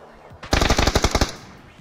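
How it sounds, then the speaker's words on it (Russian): Automatic gunfire in the battle royale game PUBG, a single fast burst of about ten loud, close shots in under a second, then quiet. "он на ходу стреляет"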